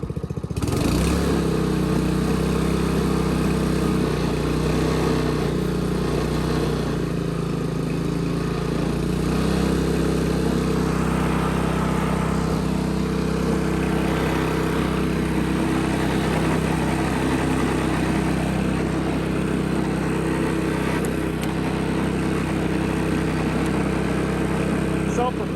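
A Honda HRB215 walk-behind lawn mower, recently repaired after failing to start, idles steadily and loudly up close, a constant throbbing single-cylinder drone with no pauses, while someone talks over it.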